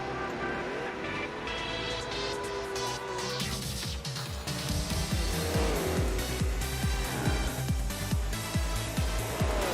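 A 666-horsepower race car in Gran Turismo 4, its engine droning and revving steadily up and down, with rhythmic gear-shift pulses and some tire noise through the lap.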